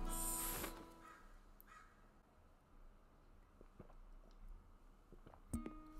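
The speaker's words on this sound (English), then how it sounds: "But the birds are chirping" Birds call in a video game, with a loud harsh caw-like burst at the start and fainter scattered calls later over a quiet outdoor ambience.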